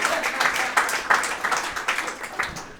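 A stand-up comedy audience applauds, a continuous dense patter of many hands at moderate loudness that carries on without a break.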